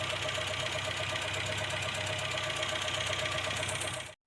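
An old Volvo 140 engine idles roughly and steadily up close, a continuous knocking chug with a low rattling hum, no voices.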